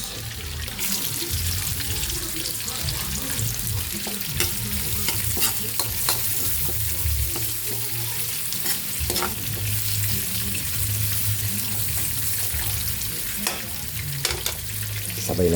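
Garlic and onion sauté in a pan with steady, close sizzling frying throughout, broken by scraping stirs of a utensil against the pan and a faint watery background.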